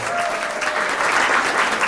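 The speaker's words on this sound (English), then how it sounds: "Please give her another big round of applause." An audience claps at a live product presentation event, a dense steady round of applause from a crowd with a faint voice threading through it.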